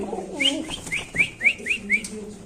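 A bird gives a series of about seven short, rising whistled calls in a steady rhythm, with faint low cooing of Shahjahanpuri pigeons beneath.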